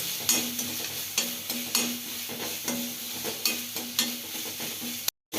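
Oil sizzles steadily in a pan as a tempering with coriander fries for banana flower chutney, while a spoon scrapes and stirs in regular strokes, with sharp clinks roughly every second, close by and fairly loud.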